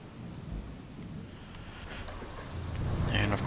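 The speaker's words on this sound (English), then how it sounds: "And of course it's raining again." Steady hiss of heavy rain with a low rumble of thunder that swells louder toward the end, in the video game RoadCraft.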